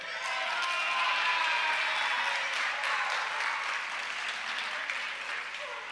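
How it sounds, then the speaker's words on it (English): Students and guests at a school honors convocation burst into sustained applause, a thick roar of many hands clapping that swells and stays full, with faint crowd murmur underneath. "I hope you all are clapping for yourselves"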